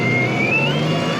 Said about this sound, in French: le bruit, c'est un simulateur avec un haut-parleur qui est raccordé au régime moteur